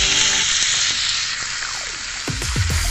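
Pieces of paneer frying in mustard oil, a steady close sizzle and crackle running throughout with light stirring clinks and scrapes over it.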